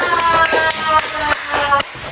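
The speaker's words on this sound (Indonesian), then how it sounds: "tepuk tangan buat Mbak Alika" A class of learners applauds a performer after a traditional song in an Indonesian-language lesson, brisk clapping running the whole moment with a few sharper claps standing out.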